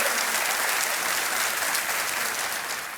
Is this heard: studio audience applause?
yes